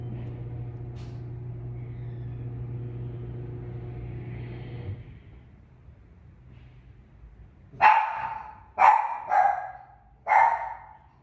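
A dog barks four times in close succession, loud and fairly near, after a stretch of steady low engine-like rumble from a passing vehicle.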